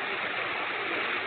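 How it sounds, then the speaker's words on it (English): Steady rushing water from a waterfall close by, a continuous broadband roar with no pauses, alone and fairly loud for the short stretch. "there's a waterfall right next to it"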